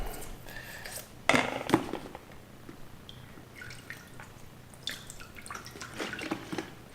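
A spray gun needle and nozzle set being rinsed under running water, with faint splashing, drips and small metallic clinks, quiet and close.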